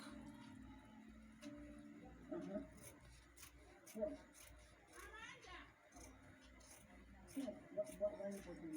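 Quiet snipping of scissors cutting through fabric, a few crisp cuts amid faint background rustling.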